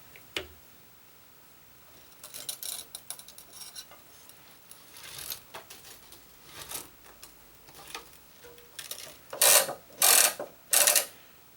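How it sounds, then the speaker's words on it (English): Gamma X-2 stringing machine clamping and tensioning the top cross string: soft ratcheting clicks and fiddly mechanical handling build up, ending in three louder, crisp clacks close by. "I'm going to move this clamp and clamp that top cross."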